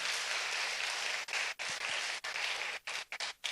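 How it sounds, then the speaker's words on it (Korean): Congregation applauding at a Friday church prayer service, a dense, steady wash of clapping that breaks into a few short pauses toward the end. "우리 철이 드신 분께 박수 한번 보내주십시오"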